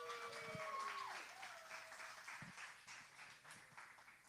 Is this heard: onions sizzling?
no